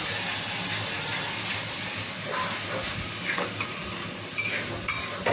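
Spiced meat mixture with meat masala stirred in a frying pan, a steady close sizzle with scraping spoon strokes and clinks against the metal, no talking.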